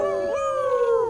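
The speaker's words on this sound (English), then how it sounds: "We're howling." Werewolves howl at a wedding in the Sims 4 game, a single sustained, rising then gliding howl with clear harmonic tones, close and prominent for about a second.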